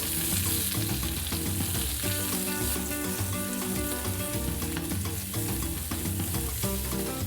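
Leek sautéing in a pan, a loud continuous sizzle with faint stirring scrapes, steady throughout and close with no voices.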